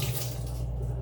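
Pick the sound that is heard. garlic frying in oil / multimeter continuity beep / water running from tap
water running from tap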